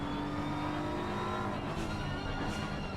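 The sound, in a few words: race car engine in a sim racing video game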